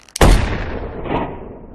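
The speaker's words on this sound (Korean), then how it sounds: "오직 총알이 차에 맞는 소리만 들리고 있죠" A bullet strikes a car in a film sniper scene: one sudden, heavy impact lands after a brief quiet, then a long booming rumble slowly fades out with no gunshot before it.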